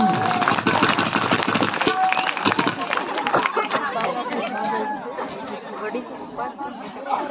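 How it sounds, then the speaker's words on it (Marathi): A crowd applauding at a comic bharud performance, loud clapping mixed with audience chatter and laughter that swells and fades across the whole stretch. "एकदा जोरदार टाळ्या होऊ द्या."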